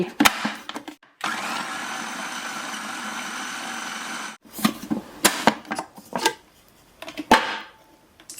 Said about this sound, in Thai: เราจะมาปั่นเครื่องนะคะ ในนี้มีหอมหัวใหญ่กระเทียม แล้วก็มีต้นผักชีนะคะ